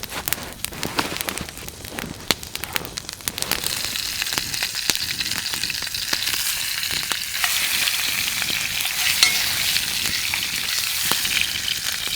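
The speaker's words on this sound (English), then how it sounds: "Hashtag it bear meat cooked in bear fat." Bear meat sizzling in rendered bear fat over an open fire outdoors, a dense continuous crackle and spatter that grows louder and steadier after the first few seconds, with no talk.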